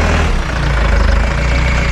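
A modified off-road Jeep's engine drones loud and close as it heads up a steep climb, a sustained low growl with a slight rise in revs and no speech.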